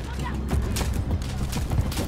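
Rapid gunfire from the Call of Duty Modern Warfare 3 video game, a steady run of dense shots and crackling bursts at close range, mixed with a voice speaking over the fight.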